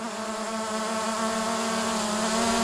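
A small camera drone hovers and descends to land in a hand on a farm, giving a steady, high-pitched buzzing whine close by with no talk.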